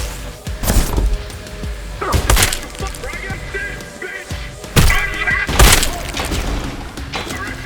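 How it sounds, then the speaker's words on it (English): Landmine explosions in the Trepang2 video game after an enemy is thrown onto the mine, several loud shattering blasts and thuds spread through the clip over ongoing gunfire and game noise, with a voice talking throughout. "So screw it, I'll pick them up and throw them into the landmine myself."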